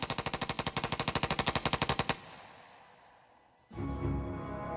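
A machine gun fires a fast, even burst of about twenty loud shots for two seconds, then falls silent before a low, heavy rumble rises and holds to the end.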